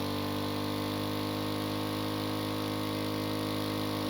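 A car engine in a racing video game holds a high, constant over-revving drone with a steady harmonic whine, loud and unbroken from start to finish, with no talking.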